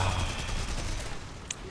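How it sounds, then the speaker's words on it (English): Rapid cannon fire from a World War II fighter aircraft in the War Thunder video game, a dense rattling burst of shots rolling continuously over engine drone. "just blast him full of cannon fire"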